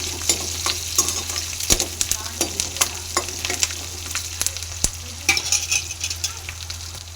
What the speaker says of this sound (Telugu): కొంచెం కరివేపాకు వేసుకొని కాస్త ఫ్రై అవ్వనివ్వాలి